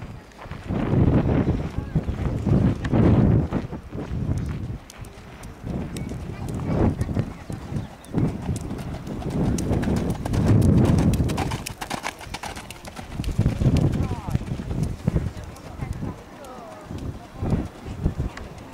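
Hooves of Kolikko, a horse performing in a riding display at a horse event, clip-clopping in a steady rhythm at moderate distance, with a commentator speaking over the sound throughout and some wind noise.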